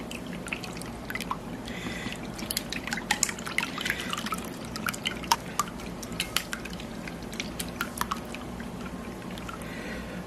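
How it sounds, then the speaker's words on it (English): Six eggs and milk are whisked in a bowl, giving a soft continuous wet sloshing with faint clicks of the utensil against the bowl, fairly quiet throughout. "We're going to scramble them real well."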